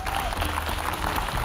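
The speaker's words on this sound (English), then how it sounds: "A round of applause." Studio audience claps for the winner of a debate round on a televised leadership competition, a steady, moderate ripple of applause throughout.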